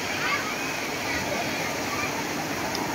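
Water churns and splashes steadily in an artificial wave pool at the Thanh Long man-made beach near Núi Cấm, a continuous broadband wash with no breaks, close and fairly loud.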